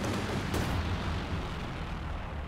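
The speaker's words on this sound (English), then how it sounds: "Super close air support trying to hurt the armor." An air support strafing run in Company of Heroes 2 fills the scene with dense, continuous rumbling gunfire and explosions, loud and sustained with a sharper burst near the start.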